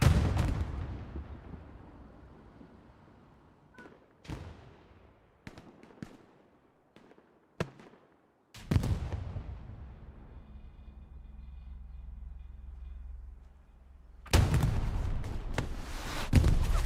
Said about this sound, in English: Multiple rockets coming in.